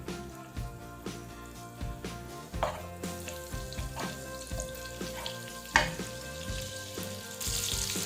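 Butter sizzling and crackling in a pan as the base for a shrimp sauce, a steady close frying hiss with small pops and occasional stirring or utensil clinks, no voices.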